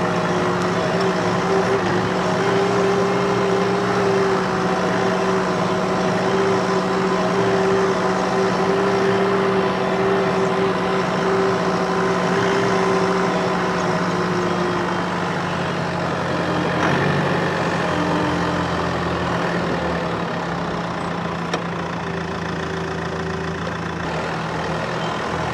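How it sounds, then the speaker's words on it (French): A tractor on Trelleborg test tyres, its heavy diesel engine droning loudly and steadily close by for the whole stretch, with a constant low rumble and no voices. "dès qu'on me demande d'aller faire un petit tour en tracteur"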